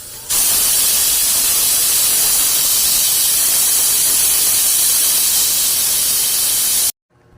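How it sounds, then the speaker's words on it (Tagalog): A high-pressure cooker with pork spare ribs vents steam in a loud, steady, broadband hiss that begins suddenly and holds constant for about six and a half seconds before cutting off. "pakulin na natin itong mga 30 minutes sa high pressure cooker"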